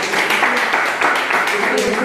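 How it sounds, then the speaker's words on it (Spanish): A classroom group applauds together, a dense, steady patter of many hands clapping at close range for about two seconds. "Un aplauso."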